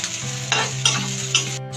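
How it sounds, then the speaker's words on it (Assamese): Potatoes fry in a pan with a close, continuous sizzle as a utensil stirs them in three or four quick scraping strokes. "আলুকেইটা ভাজি আছে ভাজি দিয়ক"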